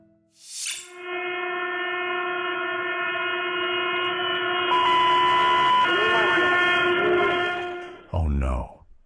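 A train sounds a long, loud multi-tone horn blast lasting several seconds over a low rail rumble, ending with a brief burst of noise.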